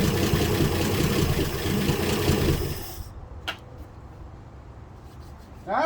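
A revived 1966 Ford F100 pickup engine idles steadily with a low, rough rumble for about three seconds, then cuts off, leaving near silence broken by a brief click.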